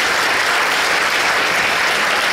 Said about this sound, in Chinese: 我们请给这位女同学最大的掌声